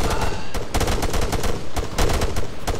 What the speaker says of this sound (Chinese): 正在交火，着急啊！